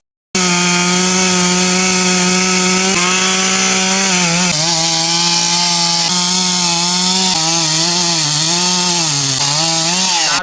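A modern wood-cutting machine saws through timber with a loud, continuous droning whine whose pitch dips and wavers as the blade bites, close and uninterrupted.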